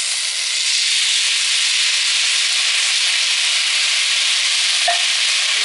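Continuous loud sizzle and hiss as tomato puree hits hot fried noodles for soup, steady frying noise with a small clink near the end.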